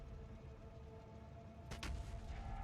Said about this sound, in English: I love these artillery cannons. They're so good.